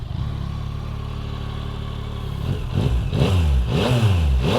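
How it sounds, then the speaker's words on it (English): Factory exhaust on a Yamaha MT-09 motorcycle idles steadily, then blips through several sharp revs that rise and fall in quick succession, loud and close with no talking. "we'll do a little exhaust note test, factory exhaust"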